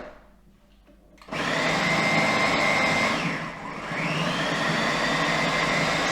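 A food processor whirs through a thick falafel mixture, starting abruptly after a quiet moment, then running loud and close with a strained, churning motor tone that dips briefly as the mix thickens and picks back up, no talk.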